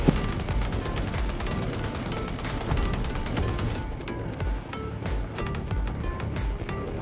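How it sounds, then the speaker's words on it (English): Dense bursts of cannon and gunfire crack and boom continuously through a canyon, rapid overlapping shots forming a dense, chaotic barrage at moderate loudness. "all the proximity cannons in the canyon roared to life"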